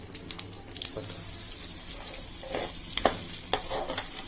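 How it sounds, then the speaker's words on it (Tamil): Small onions fry in a pan for a Kerala-style onion theeyal, a soft steady sizzle with a few sharper scrapes and knocks of stirring near the end, no talking. "இந்த சின்ன வெங்காயத்தை இதையும் நல்ல பொன்னிறமா வறுத்துக்கணும்."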